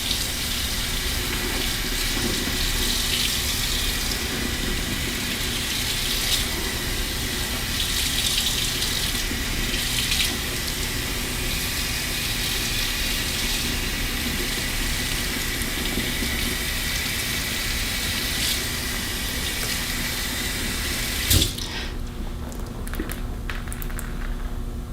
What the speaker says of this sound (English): Toss that in the sink. One-way rinse.